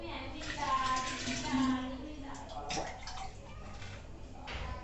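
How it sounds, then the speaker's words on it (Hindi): Water pours into a lota vessel, a fluctuating splashing and trickling stream heard close by, mixed with nearby talk and a voice. "अभी मैं इसमें भर लेता हूँ पानी, और जितना मुझे पीना है मैं उतना ही भरूँगा"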